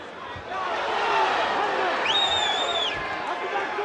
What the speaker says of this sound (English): this crowd here in Charlotte is simply frenzied